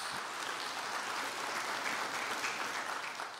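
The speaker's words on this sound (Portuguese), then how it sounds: "Uma salva de palmas para eles aí, meus irmãos." A church congregation applauds during a sermon, a steady wash of many hands clapping at fairly even volume throughout, tapering slightly at the very end.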